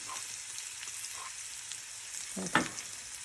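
Crushed garlic and asafoetida sizzle in hot oil for pappu charu, a quiet continuous frying hiss with a brief louder scrape of stirring near the end, no voices.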